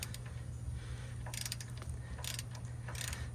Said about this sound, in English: We got the 3-foot ratchet on there because it's tight.